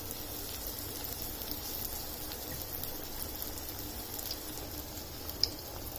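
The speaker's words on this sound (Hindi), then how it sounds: "ये देखिए, घी गरम हो गया है, इसमें हमें इसको डीप फ्राई करना है।" Bread slices deep-fry in hot ghee over a high flame, giving a continuous soft sizzle and crackle with tiny pops, quiet and steady from start to end.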